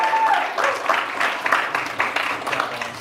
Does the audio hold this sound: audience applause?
yes